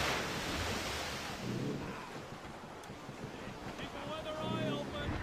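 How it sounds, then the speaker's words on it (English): Wind gusts and breaking waves roll through a rough squall at sea aboard a sailing ship in Assassin's Creed Rogue, a broad continuous rush with faint creaks, while a voice calls out over it. "Careful! It's quite a rough squall,"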